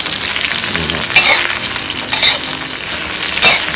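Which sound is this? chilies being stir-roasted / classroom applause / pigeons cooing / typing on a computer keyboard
chilies being stir-roasted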